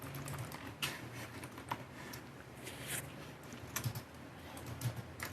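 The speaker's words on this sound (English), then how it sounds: "I'm just going to click and start typing." Rapid, irregular clicking of keys on a computer keyboard, fairly close, with a faint hum underneath and no talking.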